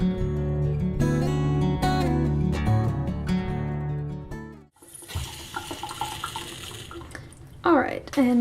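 Water running from a Python water change hose into an indoor pond tank, a steady broadband rush after music fades out partway, with a brief burst of splashing near the end.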